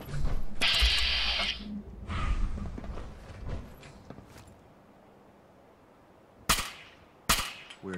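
Gunfire in the Fallout 4 video game: a cluster of loud, sharp shots early on, a quieter stretch, then two isolated cracks near the end.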